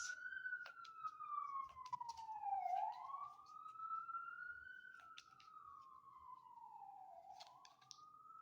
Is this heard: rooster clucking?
no